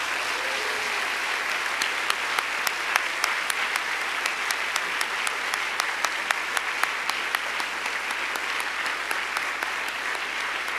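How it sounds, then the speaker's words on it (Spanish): Church congregation applauding loudly and steadily, a dense, close roar of clapping punctuated by sharp individual claps, with no talk over it. "Dele un fuertísimo aplauso al Señor."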